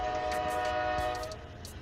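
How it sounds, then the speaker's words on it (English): A train rumbles past with a loud, sustained horn blast held for over a second, then the tone cuts off while the low rolling wheel rumble and rattling continue briefly, with no voices. "sorry for the train noise."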